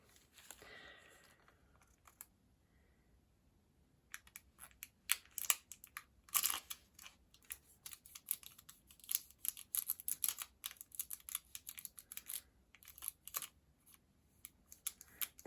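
Scissors snipping nail transfer foil from a metre-long roll, with a quick series of small, close, crisp cuts and crinkles that grow more frequent after a quiet start.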